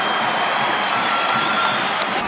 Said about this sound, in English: Oh, the crowd is up again.